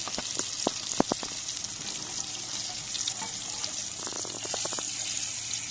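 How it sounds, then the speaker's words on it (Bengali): Food fries lightly in a pan, giving a soft steady hiss broken by scattered bursts of crackling and sputtering, close and fairly quiet with no talk. "হালকা করে ভেজে নিচ্ছি, বেশি"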